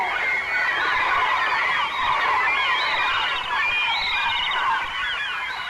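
Gulls circle and call overhead near a Newfoundland nesting site, a dense, continuous chorus of many overlapping cries at moderate distance.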